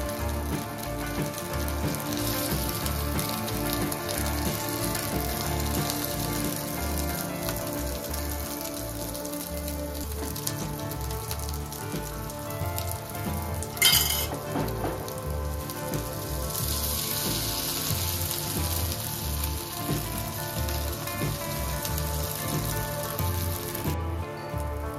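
Bread pizza topped with beaten egg and spread onions frying in a pan, giving a steady, even sizzle throughout with one brief clatter midway.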